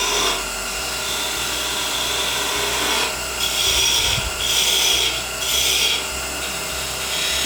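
Thompson 3/8-inch spindle detail gouge cutting into wood spinning on a lathe, a loud continuous close hiss and rasp that swells in several strokes over the motor hum.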